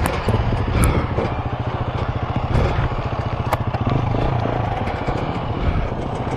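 Dirt bike engine in second gear on a trail ride in Wales near the Claerwen Dam, a loud, close, throbbing exhaust with rattling clatter, held steady throughout without talking.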